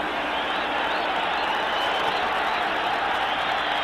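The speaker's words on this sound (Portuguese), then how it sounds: "E a torcida fica de pé gritando Goiás, Goiás." A football stadium crowd at the 1990 Copa do Brasil final between Goiás and Flamengo roars steadily, a dense, continuous wash of cheering and chanting from thousands of fans with no pauses.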